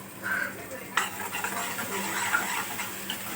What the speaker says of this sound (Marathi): आणि ते टाकल्यानंतर ना मिक्स करून घ्यायचं थोड्या वेळ असं जरा छान फिरून घ्यायचं ते.